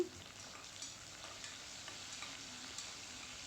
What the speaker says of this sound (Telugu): ఇప్పుడు ఇది బాగా వేగనివ్వాలి పచ్చిమిర్చి ఆనియన్ బాగా వేగిన తర్వాత